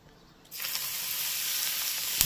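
Smoking hot oil poured into a mango kasundi mixture, quiet at first, then a sudden strong sizzling hiss bursts in and keeps crackling steadily up close, with no talking.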